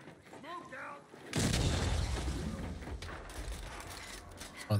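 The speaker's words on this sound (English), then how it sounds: "Hear that dude shooting" Heavy gunshots boom loudly in Gears 5 after a brief spoken moment, forming a dense, sustained burst of fire that slowly fades.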